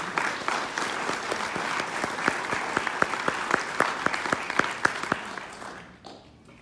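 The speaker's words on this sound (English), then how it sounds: "If you'll join me in applause" An audience at a Providence District Democrats forum in Fairfax claps steadily for several seconds, dense clapping with a few sharper nearby claps standing out, then tapering off quickly at the end.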